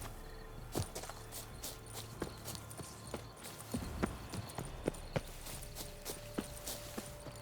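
Horse hooves clip-clop at a steady walking pace in The Witcher 3, with crisp, evenly spaced strikes that stay close and clear over a quiet background.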